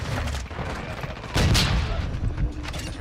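Rifle fire from a TR-76 Geist in Call of Duty: Modern Warfare II, dense rapid shots with a louder burst near the middle, loud and close, with game effects mixed in.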